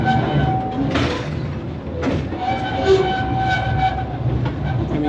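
A train rumbles and clatters steadily, brakes hissing in bursts as it slows, loud and close throughout with no voices.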